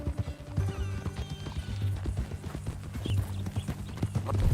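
A horse's hooves clip-clop steadily and close in a western video game, with a snort or whinny mixed into the rhythmic beat and no talk over it.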